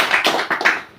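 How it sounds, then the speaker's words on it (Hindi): Loud, close applause at a treatment program gathering: a few distinct bursts of hands clapping in quick succession over about a second, fading out at the end. "बात आई है तो एक बार शानदार ताली होनी चाहिए"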